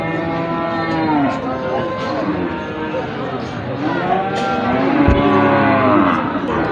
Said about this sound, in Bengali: গাভী গরু নাকি তাহলে?